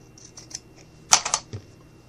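Scissors snip a little off while a pincushion armchair is being upholstered: a few quick, close cuts clustered together in an otherwise quiet room.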